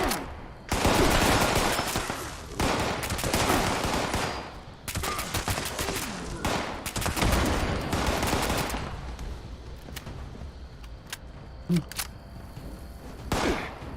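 Rapid bursts of suppressed gunfire in Fallout 76, with sharp automatic volleys in tight strings and brief pauses, then sparser isolated shots near the end.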